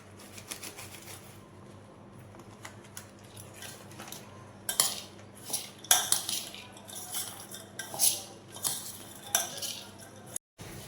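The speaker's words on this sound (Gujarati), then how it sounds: "તો સરસ મસાલો હવે મિક્સ કરી લઈશું." Chana methi pickle spice mix stirred with a spoon in a bowl, quiet at first then a run of close clinks and scrapes of metal against the dish, with no talking.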